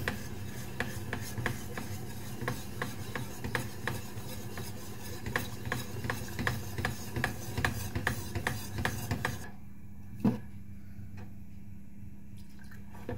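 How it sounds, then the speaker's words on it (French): Spoon stirring milk into mac and cheese in a pot over low heat, a steady close scraping rhythm of repeated strokes for about nine seconds, then near quiet with one last clink. "Je verse encore du lait, je remue."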